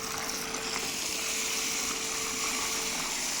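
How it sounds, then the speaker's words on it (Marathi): Water poured from a pot onto dry moong dal to soak it, a steady, fairly loud gushing pour that runs without a break. "त्यासाठी 1 गडवा पाणी टाकते त्यामध्ये"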